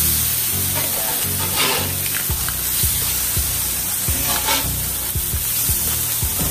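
Blackened salmon fillets sizzle steadily while frying in a pan, a loud continuous crackle with sharper spits and pops scattered through it and no talking.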